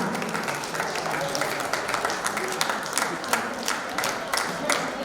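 Audience applause at a Hindi inauguration and book-release ceremony, a steady dense wash of many hands clapping with scattered sharper claps, fairly close and continuous throughout.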